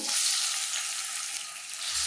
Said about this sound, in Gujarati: આમાં અડધી ચમચી કાશ્મીરી લાલ મરચું ઉમેરવાનું અને આમાં જ આપણે ટામેટા અને મરચાંની સ્લાઇસ કરીને ઉમેરવાની